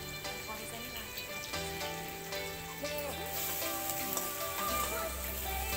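Spices with turmeric frying in a pan over a medium-high gas flame for an egg curry, a steady close sizzle with occasional scrapes and a voice talking over it.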